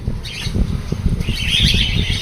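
A pair of large pet parrots (tia birds) for sale in Dhaka, Bangladesh, give scratchy, high chirps and squawks in quick irregular bursts, close by, with a rustling flutter in between.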